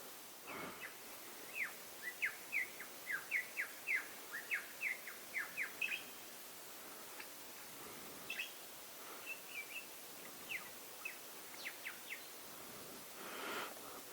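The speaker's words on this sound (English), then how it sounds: "That would be the lyrebird." A lyrebird calls at a creek falls in bush, giving a run of quick, bright chirping notes followed by scattered sharper calls, moderately close over quiet forest ambience.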